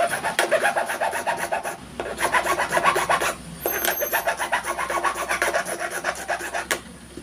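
A metal file rasps new teeth into a padlock key by hand, with bursts of quick, close scraping strokes separated by short pauses.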